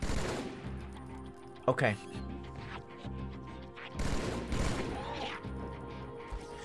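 Gunfire in Halo 2 Anniversary, with a sharp burst of shots near the middle and rapid firing throughout, layered over game music and effects, with a brief spoken word.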